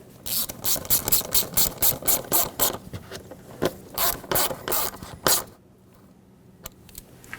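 A ratchet tightens a hose clamp screw on the 3.6L engine of a 2011-2020 Dodge Grand Caravan: close, rapid bursts of clicking come in quick strokes, then a few separate clicks before it stops.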